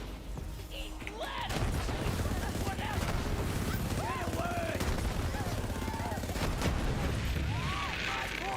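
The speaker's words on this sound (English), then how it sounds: "How dare you use a gun in this gun game?" Borderlands 4-style video game gunfire: dense rapid bursts and shots with crashes and whooshing effects, loud and continuous throughout, with voices and chatter mixed in.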